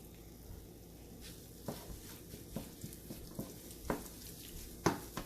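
Beet and banana cutlet mix being stirred in a pan, soft scraping and sizzling with a few sharper spoon knocks against the pan, quiet and close, no talking.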